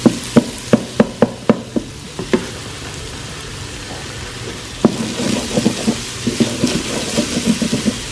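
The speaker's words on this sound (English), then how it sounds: "just going to keep sauteing our 2 shallots, our 2 serrano chilies, 4 garlic cloves, and ½ an inch of fresh ginger" Shallots, serrano chilies, garlic and ginger sauté in an Instant Pot: a row of sharp spoon taps against the pot, a quieter stretch, then a loud sizzle with more stirring clicks.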